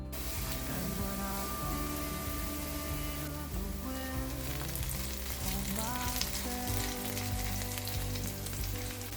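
Garlic and onion sizzle and crackle in a frying pan, a steady close hiss with occasional stirring, under quiet background music.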